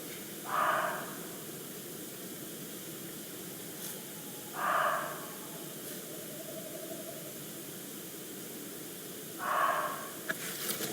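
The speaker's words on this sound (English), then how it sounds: "As clearly there is some sort of loud breathing going on." Loud, unexplained heavy breathing recorded outdoors at night during a supposed encounter, three slow hissing breaths spaced about four seconds apart, standing out over a steady background hiss.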